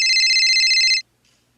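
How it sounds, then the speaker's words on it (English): A single bright electronic text message chime lasting about a second, loud and close, then near silence. "Check your phone."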